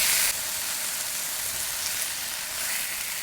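Eggs, oysters and bacon frying together in a pan, a steady dense sizzle with a bright crackling hiss that stays even throughout, with no one talking.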